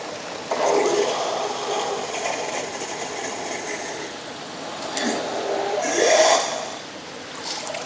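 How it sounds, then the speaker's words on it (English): A SmartBot Super 3600 pump draws water with a steady rushing, gurgling hum, swells into a louder slurping surge near the end as the water runs out, then drops off as the unit shuts itself off automatically. "we'll see it begin to shut off automatically when it stops getting water to the impeller"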